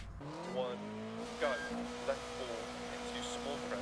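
A 1960s Renault Alpine rally car in the Dirt Rally video game drives on snow, its engine revving through gear changes with rising and falling pitch, a commentator talking over the steady motor drone.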